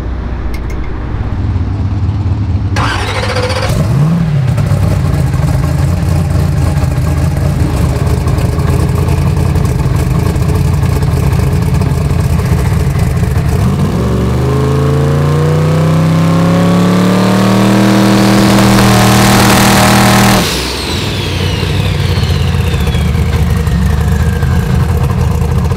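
A Sick Seconds 2.0 Camaro drag car runs in gear while warming up, a loud steady engine drone with a brief rev early on and a rising, wavering surge in the middle before settling back.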